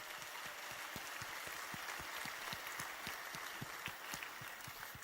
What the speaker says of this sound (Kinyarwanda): mumwakiriza amashyi menshi